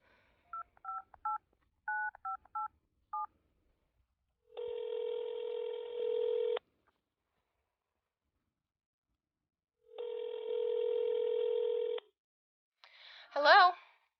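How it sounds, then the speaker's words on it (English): A phone dials on speaker, giving a quick series of short DTMF keypad beeps, then two long steady ringback tones separated by silence, ending with a brief voice burst as the line connects. "just let me dial, okay? I'll hit speaker,"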